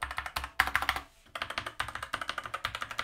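Fast typing on an RGB mechanical keyboard with red switches and a metal plate gives a rapid, fairly quiet clatter of key presses, close up and uneven in rhythm, with a brief pause near the middle.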